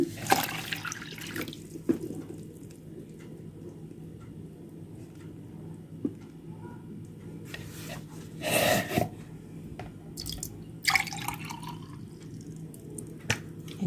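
Water runs from a tap in short bursts, splashing into a bowl for pickling green lemons, with a faint steady hum underneath and small clinks between pours.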